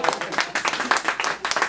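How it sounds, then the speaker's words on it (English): Live podcast crowd on South Street clapping in a brisk, scattered patter of many hands, steady and moderately loud throughout, with voices mixed in. "y'all can clap for yourself, if you want."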